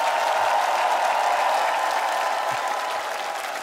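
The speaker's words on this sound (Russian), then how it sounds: "Аплодисменты ему." Steady, dense applause from a large television show audience, continuous and loud throughout with no talking over it.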